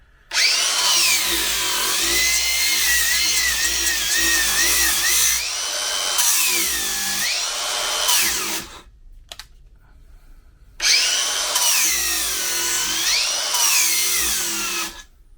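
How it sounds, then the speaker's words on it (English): A Harbor Freight Bauer brushed angle grinder grinds in two loud, sustained bursts separated by a short pause, its high whine wavering in pitch as the load changes. "Okay, so that's the brushed Bauer."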